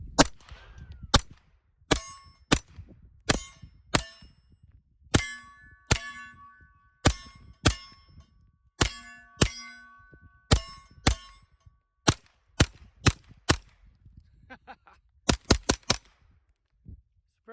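Suppressed 300 Blackout rifle fired from the hip with a Witt Machine & Tool Mod-1 suppressor: sharp muffled shots, each followed by a ringing clang off a steel target, spaced irregularly over many seconds with a quick cluster near the end.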